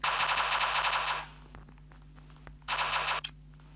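Automatic gunfire in the mobile shooter game Block Strike rattles out in a long loud burst, stops with a few faint clicks, then returns in a second short burst before cutting off.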